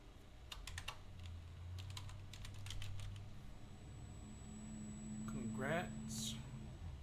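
Rapid clattering keystrokes on a computer keyboard while designing a graduation cake topper, bursts of typing in the first half, then a voice talks over a low background hum.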